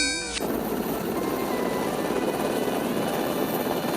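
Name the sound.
Coast Guard helicopter flying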